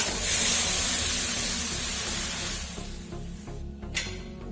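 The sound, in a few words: boiling water poured onto roasted vermicelli, steaming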